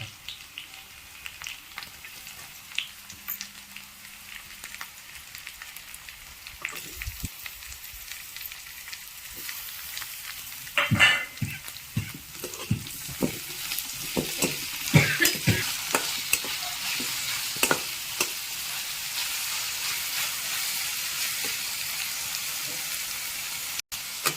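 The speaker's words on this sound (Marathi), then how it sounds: "बारीक केलेले मिरच्या कट टमाटर हे टाकून देऊ आपण" Chopped chilies and tomato frying in a pan for a spicy bhindi bhaji, a steady sizzle with clustered stirring scrapes and clatters growing busier midway, close and fairly loud.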